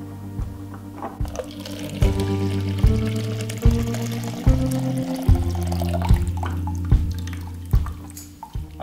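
Water poured into a 5-gallon bucket in a series of splashing glugs, roughly ten rhythmic pulses close by, with a running liquid sound between them and no talking.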